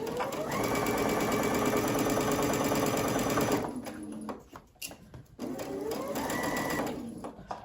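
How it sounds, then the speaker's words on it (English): A sewing machine stitches a T-shirt in a steady, loud, close whirr that runs for several seconds, breaks off into clunky handling noises, then starts up again for a short back-stitch run. "Okay, and I'll back stitch here."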